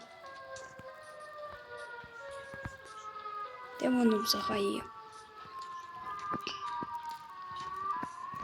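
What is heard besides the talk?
siren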